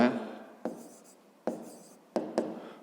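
A pen writes maths answers on paper in a few short scratchy bursts separated by pauses, close and fairly quiet.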